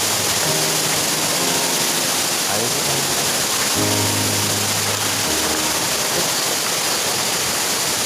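A waterfall gives off a loud, constant roar of rushing water close by, filling the whole scene without a break. Voices can be heard talking faintly beneath it.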